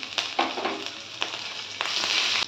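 Chopped ginger sizzles in hot oil over a cumin, bay leaf and dried red chilli tempering, steady close frying with sharp crackles and spatters through the whole stretch, no voices.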